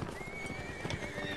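Horse in Mount & Blade Warband neighing over quick clip-clopping hooves, a brief close whinny with steady hoofbeats and no talking.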